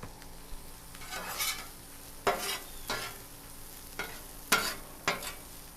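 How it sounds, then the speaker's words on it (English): Onions fry in olive oil, sizzling steadily on a hot Blackstone griddle, with several sharp bursts of hissing as more food hits the surface and gets stirred, no voices. "that sizzle from the griddle top on the"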